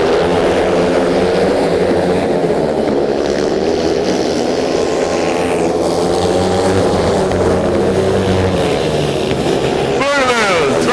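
Harley-Davidson racing motorcycles at Indianapolis Motor Speedway, a loud, dense engine roar that rises and falls as bikes pass, with a commentator talking over the noise and a sharper pass near the end.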